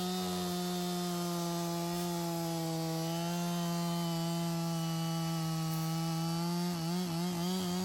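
A Husky 55 chainsaw cutting into wood and throwing chips, its engine droning loud and steady at high revs up close, with a brief wavering in pitch near the end.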